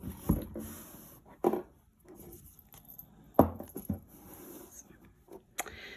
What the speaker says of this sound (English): They're little mini bells.